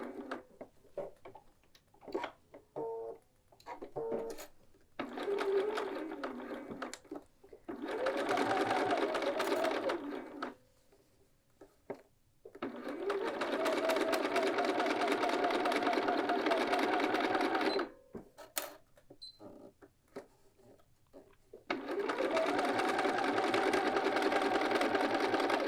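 A sewing machine stitches a patch pocket onto a quilted jacket, several rapid mechanical bursts of a few seconds each, separated by short pauses, close and clear.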